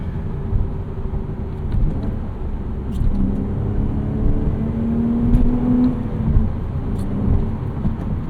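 A 2011 Porsche Cayman 987.2 base with a six-speed manual hums at steady interior cruise, with a low engine drone and road rumble whose pitch rises and settles as gears are shifted, no talking.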